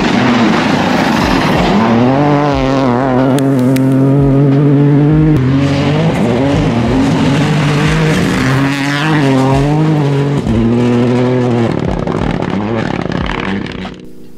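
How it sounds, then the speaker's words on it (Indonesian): Toyota GR Yaris AP4 and Rally2 rally car engines, loud and close, revving hard through repeated rising and falling gear changes with sharp throttle blips, steady and continuous throughout. "Coba deh kalian denger ini suara GR Yaris versi EP4 dan Rally 2."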